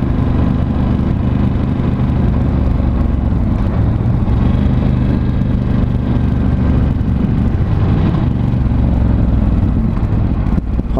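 A Ducati Scrambler 1100 Special motorcycle engine runs steadily and loudly throughout, its low rumble broken by faint exhaust crackles and pops as the throttle eases off on deceleration.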